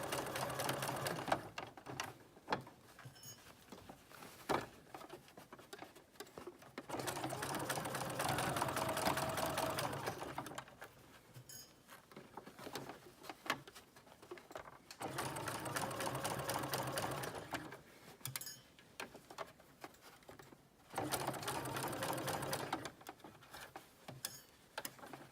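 A sewing machine stitches in a set-in sleeve, running in several slow bursts of rapid ticking separated by quieter pauses with faint handling sounds, close and fairly soft.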